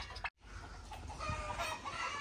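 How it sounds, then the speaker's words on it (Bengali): Laying hens kept on a farm with turkeys and other poultry cluck softly in the distance, a faint murmur of fowl after a brief dropout near the start, with no talk. "এই যে এগুলা ডিমের মোরগ, এগুলাই।"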